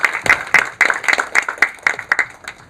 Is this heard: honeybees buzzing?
no